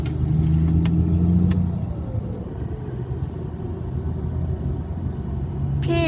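Car driving toward a bridge in Thailand, a steady road rumble and engine drone close by with tire noise, easing slightly partway through and swelling again near the end, no voices.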